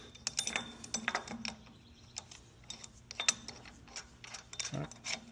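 A bolt being threaded by hand into a crankshaft to install a harmonic balancer, producing a series of light irregular metallic clicks and ratcheting taps, close and fairly quiet, with no speech.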